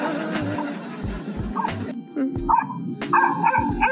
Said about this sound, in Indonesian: Malah Ustadz malah menggonggong.